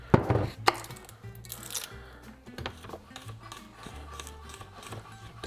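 A knife dices ingredients on a board for a gourmet seafood dish, quick close chopping taps coming in uneven bursts, louder at first, with short gaps between.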